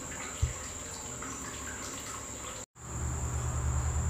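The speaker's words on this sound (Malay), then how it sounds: "kat sini dia akan keluar air dan juga buih daripada atas lah" Water and foam rush from a homemade venturi system in a steady hiss, broken by a brief cut, then a louder gurgling flow with a low bubbling undertone.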